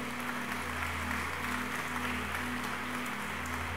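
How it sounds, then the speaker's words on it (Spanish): Congregation applause at a Spanish-language church service, a steady broadband wash of clapping with a low mains-like hum underneath, continuous and fairly loud throughout. "¿Cuánto le dan un aplauso al Rey?"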